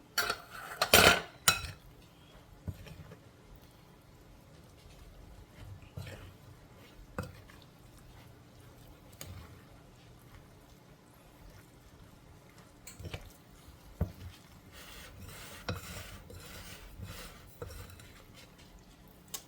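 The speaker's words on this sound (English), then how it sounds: "I got the fork because I know I want to chop that tuna and salmon" A fork works through canned tuna and salmon in a bowl, making scattered metallic clinks and soft mushy scrapes. A sharper burst of clatter comes early, then quieter taps spread out with pauses between them.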